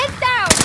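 Gunfire in a multiplayer shooter video game, a short burst of sharp shots at the end of a brief moment, with a voice heard just before.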